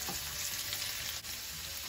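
Dumpling filling frying in a pan, a continuous loud sizzle with faint stirring scrapes and a single brief clink midway.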